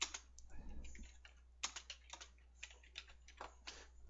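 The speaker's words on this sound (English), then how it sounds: "You can just type," Quiet, irregular clicks of typing on a computer keyboard in a quiet room, with keystrokes coming in short, uneven bursts and no one speaking.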